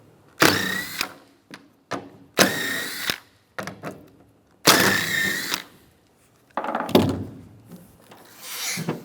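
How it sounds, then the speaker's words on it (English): A 13mm socket on a power tool loosens three tailgate bolts on a Chevrolet Silverado pickup, heard as several loud close whirring bursts separated by pauses, with metallic clunks in between. "We're going to take these 3 bolts out using a 13mm socket."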